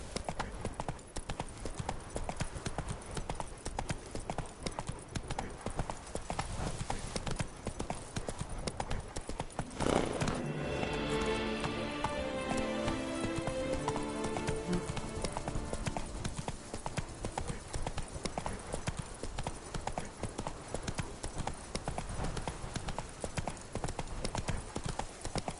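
The horse Roach gallops in Witcher 3, its hooves beating a quick, steady clip-clop rhythm under outdoor ambience, with brief voices partway through.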